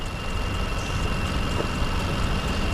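A used 2016 car idles at a dealers-only auto auction, a steady, continuous low engine rumble with a faint high whine, close and unbroken throughout.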